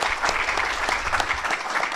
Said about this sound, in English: Can we give Kelvin a nice big round of applause for joining us on the panel today?